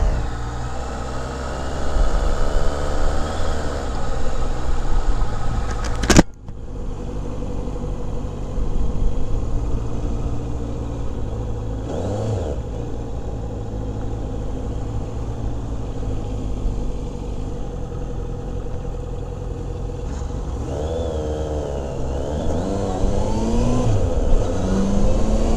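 A stock-exhaust Honda CBR650F motorcycle being ridden through its gears, its engine drone rising and falling with smooth shifts. There is a sharp thump near the start and a steady wind-blown rumble throughout.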